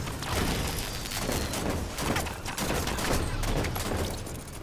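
Rapid bursts of gunfire from the video game Halo 5 in Warzone mode, dense and continuous throughout with sharp repeated shots and booms layered close together.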